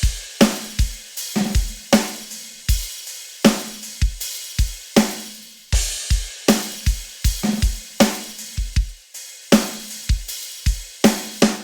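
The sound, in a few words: crash cymbal and hi-hat drum pattern together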